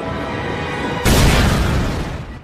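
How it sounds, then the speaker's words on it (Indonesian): Suicide bomb blast as a US army vehicle passes in a film scene: a sudden loud, close explosion cuts through a steady rumble and leaves a broad roar that slowly fades. "Anak muda bernama Mamu melakukan aksi bom bunuh diri saat kendaraan tentara Amerika melintas."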